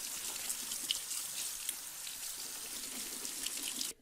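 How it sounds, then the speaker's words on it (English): Canned chickpeas drained and rinsed under running tap water in a sink, a steady continuous hiss of flowing water splashing onto the beans, fairly close and alone with no talking. "For now, I'm just going to drain and rinse them."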